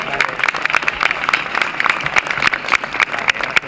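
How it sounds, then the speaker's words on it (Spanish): An outdoor crowd at Zaragoza's Christmas lights switch-on applauds the new child mayor, David Tena, with brisk, scattered clapping that holds steady, sharp individual claps standing out. "Un aplauso para él"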